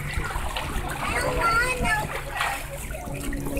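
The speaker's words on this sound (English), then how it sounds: "He's trying to splash me." Water splashes and sloshes at a water balls attraction in a Florida zoo, with children's voices talking and calling over a steady, close watery churn.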